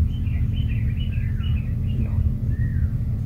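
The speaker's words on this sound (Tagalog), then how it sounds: "Yan naman yung ibon mga tol." A wild bird calls near an overgrown grassy path, giving a run of thin, wavering chirps over a steady low rumble of outdoor background noise, then a final brief call.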